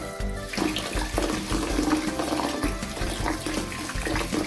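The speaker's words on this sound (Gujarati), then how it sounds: "આ રીતે આપણે પાણીનું ભરી દેવાનું છે" Tap water pours steadily and fairly loudly into a vessel being filled while sesame seeds are prepared for a mouth freshener, a continuous gushing splash with no talk.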